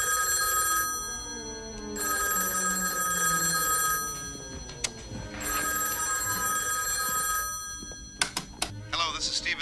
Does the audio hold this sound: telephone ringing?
yes